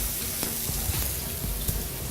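Onions and peppers sizzle in a pan, a steady broad hiss with occasional soft stirring scrapes and pops, close and fairly loud with no talking.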